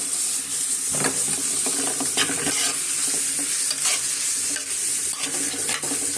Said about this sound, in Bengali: পেঁয়াজটা ভাজা ভাজা।